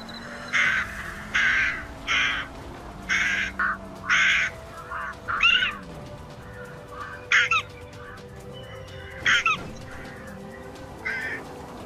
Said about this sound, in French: Là, j'ai entendu des oiseaux, là. Des corbeaux, des vrais corbeaux.